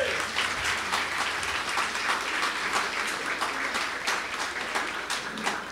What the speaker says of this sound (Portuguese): Uma salva de palmas pro seu Adão.